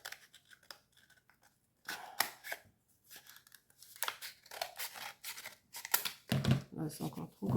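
Scissors snip through wool yarn for a small pompom elf, giving short crisp cuts and rustling in bursts, quiet and close, with someone talking softly between the snips.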